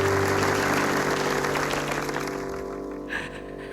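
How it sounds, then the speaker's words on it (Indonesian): A crowd at a street event claps together, a loud burst of applause that gradually fades out over a few seconds. "Boleh tepuk tangan dong"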